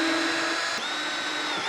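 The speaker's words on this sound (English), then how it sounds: "put your screw in, your drill in" A power drill whines steadily and loudly for under two seconds, with a brief dip partway through, as it drives a screw while a beehive is being moved.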